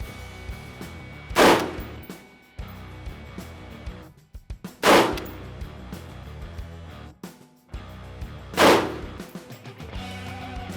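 Three sharp rifle shots ring out on an outdoor Army range while zeroing, spaced a few seconds apart, each loud and close with a short echoing tail.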